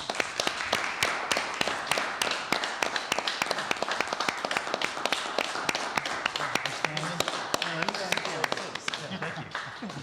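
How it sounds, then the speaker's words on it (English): A council meeting audience applauds a plaque presentation, with dense, steady clapping running throughout and some talk underneath toward the end. "A round of applause"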